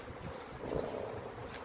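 A low, steady drone of honey bees buzzing from a swarm gathered in separate clusters, close to the microphone and faint, with light wind noise and no voices.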